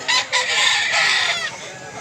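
A white Kelso rooster at a market in Mantalungon, Cebu, crowing loudly and close in one drawn-out, strained call lasting over a second, trailing off into quieter background.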